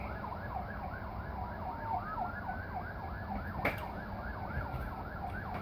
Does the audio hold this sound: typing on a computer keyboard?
no